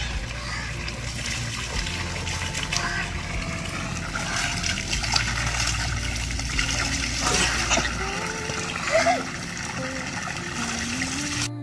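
Water running from a pipe and splashing onto hands in a village setting, a steady broadband wash with irregular splatters throughout, close and fairly loud, with faint voices and low background rumble beneath.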